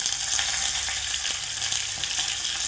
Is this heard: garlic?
yes